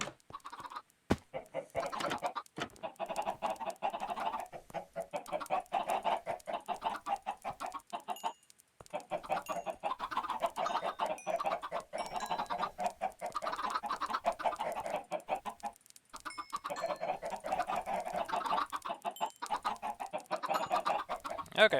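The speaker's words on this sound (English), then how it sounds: "it sounds like it's time to go ahead and breed some more chickens" Minecraft chickens in a modpack game being bred: a dense, continuous run of clucking from several birds, fairly loud and close, with brief pauses, and no speech.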